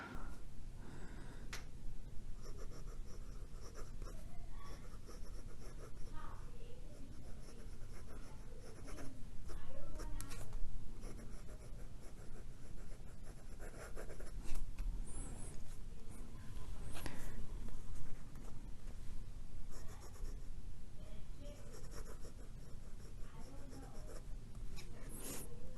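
A Parker Jotter fountain pen nib writes on paper with close, soft scratching strokes in irregular bursts, occasionally skipping, and a voice talking quietly at times.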